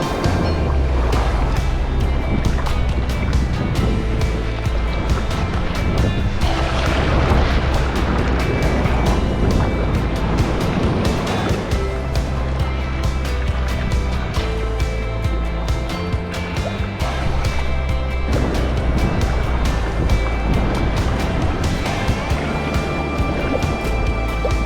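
Rough sea churns and crashes around a kayak off an exposed, westerly facing Scottish shoreline, a loud, constant roar of waves and rushing water with wind, close and unbroken throughout.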